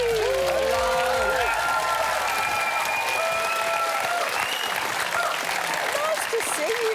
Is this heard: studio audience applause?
yes